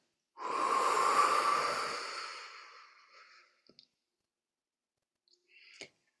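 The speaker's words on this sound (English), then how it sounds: "Let's take a deep breath." A long, deep exhaled breath, slow and airy, fading over a couple of seconds in a quiet room, followed by a few faint clicks and a brief soft rustle.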